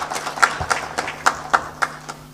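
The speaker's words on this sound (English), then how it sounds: "I think she deserves another hand clap." Scattered hand claps from a small audience at a civil society meeting on Uganda's Universal Periodic Review, a few distinct claps spaced irregularly, moderately close and fairly thin rather than full applause.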